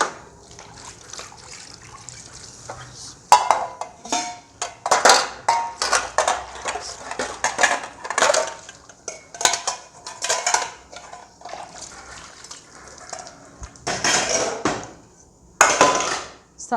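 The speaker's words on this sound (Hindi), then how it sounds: "फिर गर्म पानी से इनको निथार रही हूँ" Metal utensils and dishes being rinsed with hot water clatter and clink repeatedly as water splashes and trickles, close and fairly loud, with irregular bursts of handling throughout.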